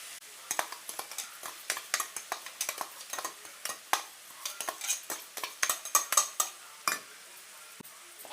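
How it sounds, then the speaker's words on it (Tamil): Ground coconut is stirred into a bottle gourd stir-fry in a pan, with a quick, irregular series of sharp scrapes and clacks from a utensil against the metal, nearby and fairly crisp, without speech. "தேங்காய் சேர்த்துட்டு நல்லா மிக்ஸ் பண்ணிக்கலாம்"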